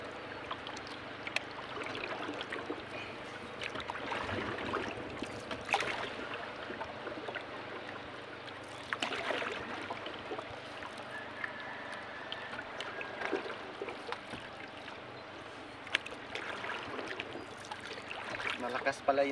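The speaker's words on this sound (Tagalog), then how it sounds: "Malakas pala yung tubig dito" Floodwater of the Agusan River rushes and gurgles steadily nearby, a fast strong current with splashes, while people talk over it.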